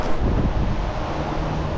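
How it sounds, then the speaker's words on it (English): Wind buffeting a microphone during tree climbing and chainsaw work, a loud continuous low rumble and roar with no other clear sounds. "We got some wind though."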